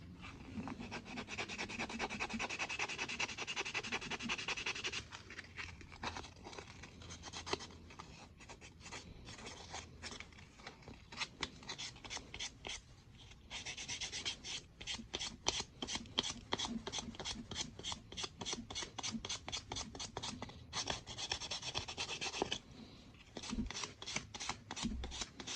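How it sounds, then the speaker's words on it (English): A balsa wood fishing bait rubbed by hand with 150 grit sandpaper, close raspy strokes in quick repeated bursts, some long and steady, others short and choppy, fairly quiet and with no talking. "I got a piece of 150 grit sandpaper here, and we're gonna go ahead and get this bait sanded"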